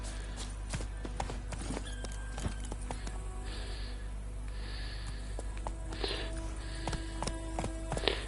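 Roach, the horse in the video game The Witcher 3, with steady clip-clop of hooves and an occasional snort, heard over a constant low in-game hum and ambient background.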